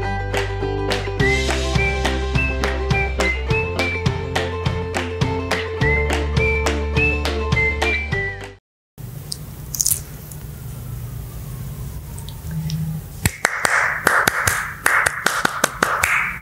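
Scout clapping pattern (tepuk pramuka) with sharp, rhythmic claps in a patterned sequence over tonal backing music, followed by a brief pause and quieter, looser sounds.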